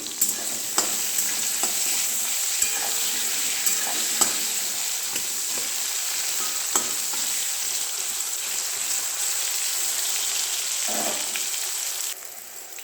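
Eggplant frying in a pan with turmeric and salt, a steady close sizzle that runs throughout with occasional stirring clicks and scrapes, fading slightly at the very end.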